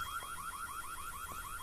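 An alarm in the video game White Day sounds alone, a rapid repeating electronic warble cycling in quick rising sweeps at a steady, moderate level.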